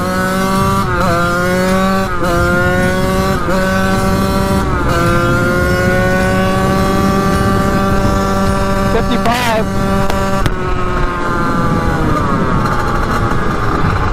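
A Kawasaki KX 80 dirt bike engine holds a loud, steady, high droning note at speed, cutting out in brief repeated dropouts every second or so before settling lower near the end.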